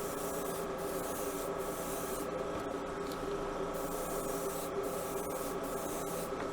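A spray gun lays gloss black paint onto a Buick, a steady, continuous airy hiss that holds at an even level from start to finish, close and alone.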